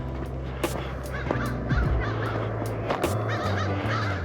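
Crows caw repeatedly at mid distance, in several harsh calls at uneven intervals over low outdoor background noise.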